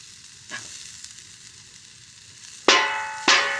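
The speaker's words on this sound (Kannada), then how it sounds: "ಬೆಂಡೆಕಾಯಿ ರೋಸ್ಟ್ ಮಾಡ್ತಾಯಿದ್ದೀವಿ ನೋಡಿ" Okra sizzling in a hot pan with onion, chicken masala, chili powder and pepper powder, a steady soft frying hiss punctuated by three sharp sizzling bursts as ingredients are stirred or added.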